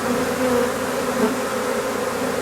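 Dense swarm of honeybees buzzing steadily around an open hive, a continuous close drone with no voices.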